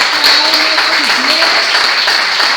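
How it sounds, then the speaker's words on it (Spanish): A church congregation breaks into applause, an even wall of clapping from many hands that carries on without pause, with a voice faintly audible underneath. "Un aplauso"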